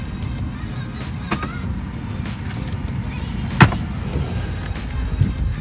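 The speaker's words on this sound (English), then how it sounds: "Let me open up the glove box." A car's glove box being opened inside a quiet vehicle: one short, sharp latch click stands out over a low steady cabin hum.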